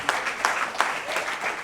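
A crowd at an awards gathering applauds in a brief burst of clapping with a few louder claps standing out, close and continuous through the moment.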